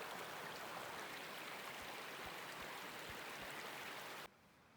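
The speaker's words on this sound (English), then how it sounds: "Neat little cascading creek going on there." A small cascading creek along a backcountry trail keeps up a steady, soft rushing babble with faint low knocks, then cuts off abruptly near the end; no voices.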